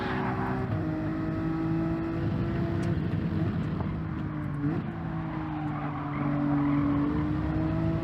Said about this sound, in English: Nietko has spun out